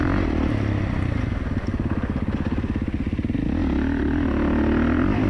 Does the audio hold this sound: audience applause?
no